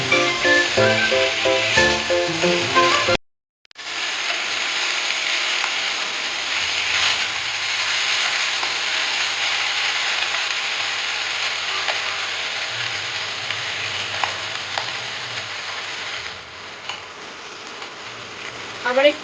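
Hilsa fish pieces keep frying in a kadai of hot oil after being flipped, giving a steady, moderately loud sizzle. A clattering, ratchet-like scrape comes first, then a brief dropout, and the sizzle runs on evenly before a final clink.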